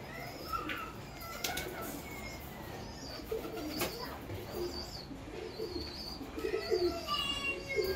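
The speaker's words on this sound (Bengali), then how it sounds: "এই যে সব পায়রা একে একে বার হচ্ছে বন্ধুরা" Released pigeons file out of their coop one after another, wings flapping in short bursts amid soft coos and scattered chirps, fairly close and with no talking.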